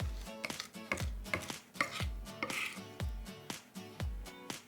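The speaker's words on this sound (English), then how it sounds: "There we have 3 cloves of garlic, chopped and ground." Garlic cloves being chopped on a board with a knife, a steady series of about a dozen crisp thuds at an even rhythm, close and clear with a voice speaking over part of it.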